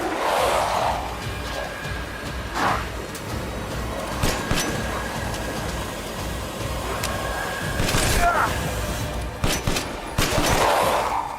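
Gunfire from enemies in the Resident Evil survival horror game, broken bursts and single shots rattling across the whole stretch at a fairly loud, steady level amid other game noise.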